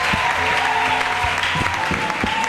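A church congregation claps and applauds for the music group, a dense, continuous burst of many hands with a few sharper claps standing out, fairly loud and unbroken.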